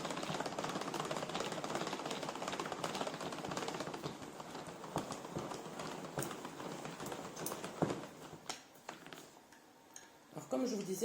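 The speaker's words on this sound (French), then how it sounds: "vous tournez dans les deux sens pour bien mélanger" Batter for a lemon cake churned in a hand-turned Tupperware Ultrapro mixer, a steady rapid clatter and rattle of the crank turning both ways, close and continuous before tapering off near the end.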